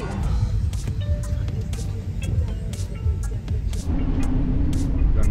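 Car engines idle and rumble in a Mumbai street traffic jam, a steady, close, low traffic drone with occasional horn-like tones and shifting engine noise.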